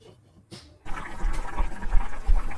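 After a quiet moment, two cups of water gush into simmering prawn thakkadi gravy with a splashing rush and keep pouring in low, bubbling surges.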